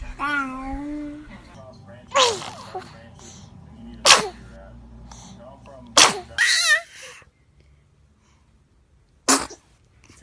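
Several sharp, close baby sneezes burst out at irregular intervals, one a quick double, with babbling infant sounds at the start and quiet room stillness between them.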